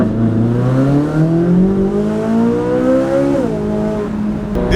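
Chevrolet Corvette C8 Z06 with its 670 hp engine, which revs to 8600 rpm, climbs loudly and smoothly through the revs for about three seconds, then drops sharply to a lower steady drone. Nobody talks.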